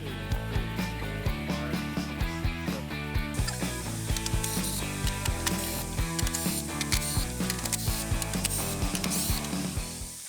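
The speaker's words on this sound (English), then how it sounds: "Remove these 7 bolts using a 10mm socket." A 10mm socket ratchet backs out bumper cover bolts on a BYD Shark 6, giving steady, rapid close clicking over a dense tonal background, with no talk.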